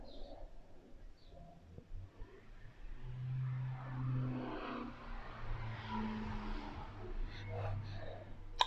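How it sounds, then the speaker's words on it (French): Cars pass along a quiet residential street beyond an open window, a low steady rumble that swells and fades at a distance, with a pigeon cooing faintly nearby. "si vous entendez les bruits des voitures qui passent"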